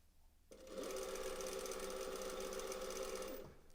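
A straight stitch sewing machine sews a hem on knit fabric in one steady burst of close, even motor hum and needle clatter lasting about three seconds. It starts and stops abruptly in a quiet room, with no talk.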